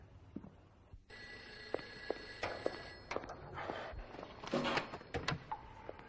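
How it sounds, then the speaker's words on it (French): A telephone bell rings in a funeral home late at night, several steady rings sounding fairly close, with light footsteps and handling noises around it and no talking. "le téléphone a sonné"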